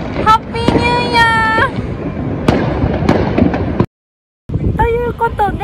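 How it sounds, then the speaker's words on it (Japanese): Private New Year fireworks over Bangkok pop and crack in scattered sharp bursts, near and far, mixed with people talking and an abrupt moment of silence. "個人花火でいっぱいです"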